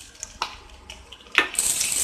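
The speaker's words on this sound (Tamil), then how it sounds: "பூண்டு ஃப்ரை ஆயிடுச்சு" Chopped garlic frying in oil in a pan for prawn fried rice, heard as a brief clatter of stirring followed by a rising close hiss of sizzling.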